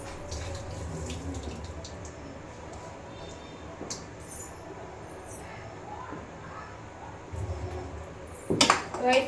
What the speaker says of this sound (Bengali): এই এইভাবে ধুচ্ছি জলটা ফেলে দিই